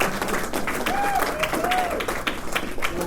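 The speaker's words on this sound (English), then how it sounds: "how about a round of applause to the most entertaining part of the night?" Audience at a fire captain's retirement party clapping steadily for several seconds, a dense crowd applause with a faint tonal squeal over it.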